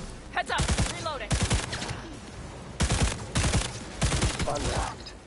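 Automatic gunfire from the Cyberpunk 2077 video game rattles in three loud, close bursts of rapid shots separated by short pauses.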